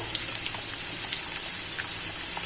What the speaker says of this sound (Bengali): এবার আলুটাকে ভালো করে আমি লাল লাল করে ভেজে নেব